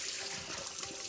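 Rinse water for sushi rice drains through a strainer in a steady, close hiss of running and trickling liquid that holds level for the whole moment, with no voices.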